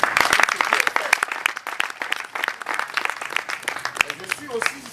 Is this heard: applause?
yes